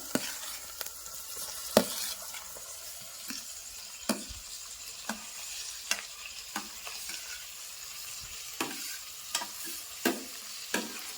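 Tomatoes frying in a pan as they are stirred: a steady sizzle runs throughout, broken by a dozen or so sharp scrapes and clacks of the spoon at an irregular pace.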